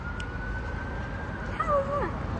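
Faint and far off, a siren from a fire engine or ambulance sounds across a Leicester city-centre street: a steady held tone that then wavers up and down over general traffic hum.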